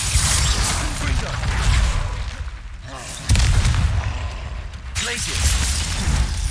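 Confringo explosive spells go off in Hogwarts Legacy as loud, heavy booms with sharp onsets, two sudden blasts breaking through a continuous rumbling roar of combat.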